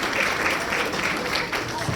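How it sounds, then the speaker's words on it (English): Steady applause from a crowd, a dense patter of clapping that continues evenly throughout. "Give yourselves a round of applause."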